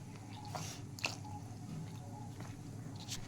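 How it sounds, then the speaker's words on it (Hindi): Maida batter for malpua being mashed as milk is added bit by bit, with soft wet squishing and squelching strokes and a few sharper clicks, close and quiet, no talk. "इसको थोड़ा थोड़ा करके डालेंगे और इसमें मैश करेंगे"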